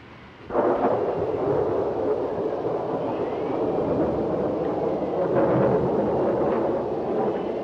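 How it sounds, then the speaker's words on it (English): Low rumbling thunder from a heavy storm, a broad steady roar that swells suddenly and holds loud and continuous throughout, with no voices. "this is a storm and a half"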